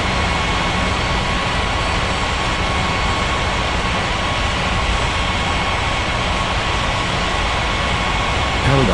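A jet airliner roars on takeoff from a runway at an island airport in an air traffic control game, a steady, loud engine rush that fills the scene without a break and barely changes in pitch.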